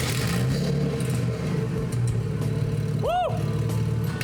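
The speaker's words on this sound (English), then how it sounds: "So now it's time to test it and see what it sounds like straight piped." A car engine with a straight-piped exhaust drones loud and close with a coarse rattling tone, broken near the end by one quick sharp rev.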